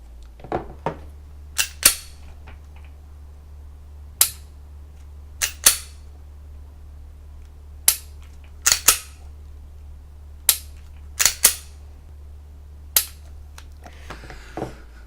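Sharp isolated clicks of dry-fire trigger pulls on a handgun during shooting practice, about a dozen crisp snaps spaced irregularly, some in quick pairs, over a low steady hum in a quiet room.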